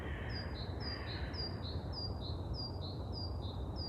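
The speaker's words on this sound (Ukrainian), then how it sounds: "Чуєте, як пташка співає?" A bird sings a repeated series of short, clear whistled notes in steady rhythm at an old mill over a constant low rumble of distant road traffic.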